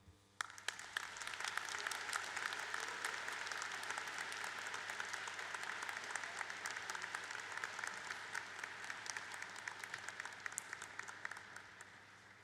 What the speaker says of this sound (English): let's give another round of applause for our speaker